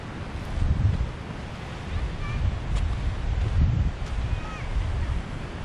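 Surf rolling onto a coral beach at Tank Beach, Saipan, with strong wind gusting across the microphone in a continuous low rumble and the wash of waves underneath, steady and fairly loud.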